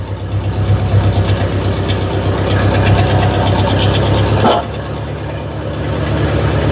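A Massey Ferguson TO30 tractor engine runs on choke with a steady, low, pulsing chug that stumbles and dips partway through before settling into a rough idle again.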